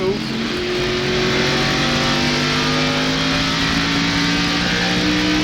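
NASCAR stock cars race around the Richmond oval during the 1996 Miller 400, a loud steady roar of engines with rising pitched drones as the field passes, broadcast commentary talking over it.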